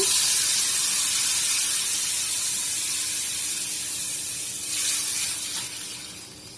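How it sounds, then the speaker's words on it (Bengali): Water poured into a pan of fried onion and garlic sets off a loud, steady steam hiss that carries on without talk and eases off toward the end. "এখন একটু পানি দিয়ে দিব। আমার পেঁয়াজ রসুন ভাজা শেষ, পানি দিয়ে একটু কষাই নেব।"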